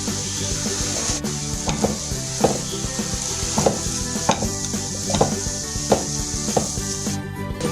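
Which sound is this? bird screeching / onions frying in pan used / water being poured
onions frying in pan used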